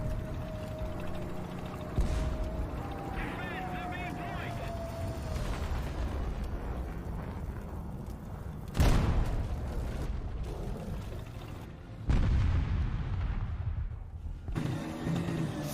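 A CA Lorraine fires artillery in War Thunder: two sharp booms land several seconds apart over a steady vehicle engine rumble, each with a short crackling tail.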